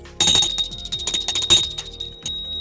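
A lucky lobster bell rings loudly in several quick, bright metallic strikes, each leaving a shimmering decay, heard alone.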